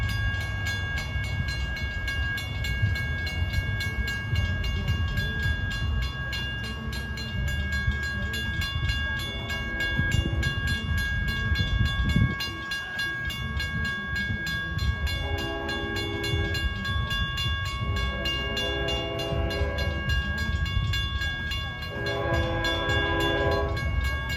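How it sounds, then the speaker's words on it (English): A Long Island Rail Road train runs past on the Montauk Branch, its wheels and cars rumbling steadily throughout while a K5LL air horn sounds several chord blasts, growing louder toward the end. "watch train 80 from Long Island City to Patchogue go past. Sounds like he's got a K5 LL horn of some kind."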